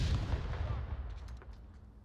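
Grenade blowing up in the VR shooter Onward during a competitive match, a loud booming burst that decays over about two seconds into fading crackles and debris.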